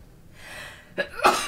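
A single person sneezes after a soft breathy lead-in: a short sharp intake, then a loud explosive burst near the mic, with no talking.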